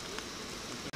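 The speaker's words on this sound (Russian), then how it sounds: "спартаковская, ливень как раз, то, что нам надо сейчас" Heavy rain pours down at an outdoor youth football match between Spartak and FShM, a steady dense hiss of downpour filling the air without pause apart from a brief drop near the end.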